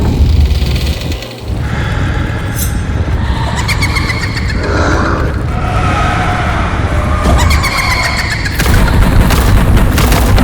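Tablets of the Li family's ancestors burst apart in a loud, sustained crash of debris and rumbling, with booming low end and clattering, crackling breaks continuing throughout.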